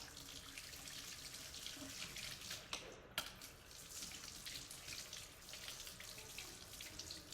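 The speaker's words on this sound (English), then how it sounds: "I'm gonna turn the water back on and I'm gonna rinse the soap out." Tap water runs steadily into a sink while soap is rinsed out of a paintbrush's bristles, a continuous close splashing hiss with one brief clunk partway through.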